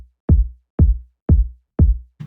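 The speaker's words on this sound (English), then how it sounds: "So the kick in the boring section, it sounds like this" A plain four-on-the-floor kick drum loop programmed in Ableton on a straight grid with no groove: four evenly spaced, punchy low thumps, each decaying quickly, with a fifth hit just starting at the end.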